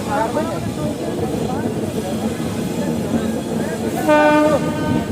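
A passenger train runs steadily throughout, with a continuous loud rumble of the carriages and a brief train horn sounding near the end.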